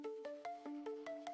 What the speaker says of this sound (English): Excuse that, my phone's ringing.